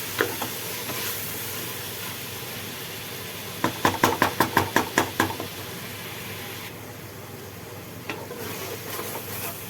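Tomato, mint and green chillies sauté in a pan for mushroom biryani under a steady hiss of frying. Midway comes a quick run of about ten rhythmic ladle scrapes and taps, then the sizzle carries on alone.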